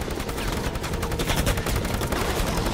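Rapid bursts of gunfire from the video game Fortnite crackle densely and loudly for a few seconds, sounding like sustained machine-gun fire.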